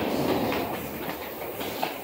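A London Underground Victoria Line train running southbound toward Brixton, with a steady close rumble and rattle of the carriage throughout and faint wheel clatter, no talking.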